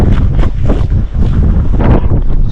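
Strong gusting wind roars across the microphone at Bernina Pass on a cold morning near 2.5 °C with fresh snow, a loud continuous buffeting rumble with no voices heard.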